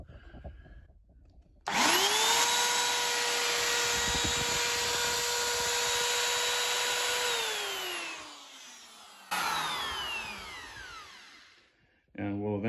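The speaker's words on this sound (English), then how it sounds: "we'll take the router, this guy, and it's just gonna take a little bit off" A router trims a little wood off along a line, its motor whining up to a loud, steady, high-pitched roar under load, winding down, then briefly starting again at the end.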